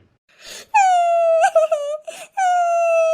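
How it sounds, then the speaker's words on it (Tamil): A woman cries and wails loudly indoors at home, drawn-out high moaning tones broken by short sobbing breaths and gasps, close and alone without other sounds. "என்ன இவ இப்படி அழுதா?"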